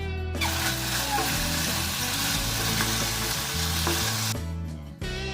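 Fried cauliflower is tossed into a sizzling chilli sauce in a pan, giving a loud continuous hiss and crackle with stirring scrapes, over faint background music that cuts out near the end.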